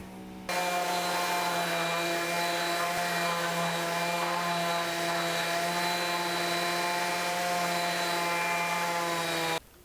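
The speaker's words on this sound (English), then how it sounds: "So let's start sanding." A power sander works a poplar wood plant stand, starting abruptly and running at a steady whining drone with a strong hum and a rough surface hiss, then cutting off sharply near the end, with no voices.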